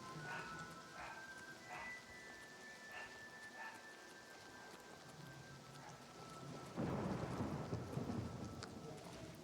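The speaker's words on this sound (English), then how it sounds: "That is such good thunder sounds." Thunder rumbles and rain falls in Oblivion Remastered, a steady downpour with a loud rolling thunderclap near the end, heard alone without talk.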